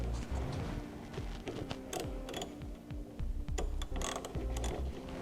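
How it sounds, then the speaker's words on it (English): Socket wrench tightening bolts on a Jeep roll bar, with repeated ratcheting clicks and metallic ticks over a steady low hum, close and moderately loud. "we can go ahead and tighten them down with our socket wrench"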